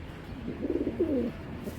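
Giribaj pigeons coo in a soft, rolling burst lasting about a second, fairly close and moderately loud, with no talking.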